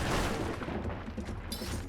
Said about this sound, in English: I like seeing the different kind of gunfire.